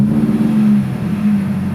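A car engine running at a steady hum that swells briefly as it revs, then settles back to idle, close and loud with no voices.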